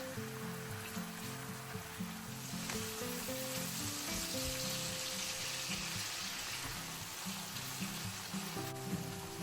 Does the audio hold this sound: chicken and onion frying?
yes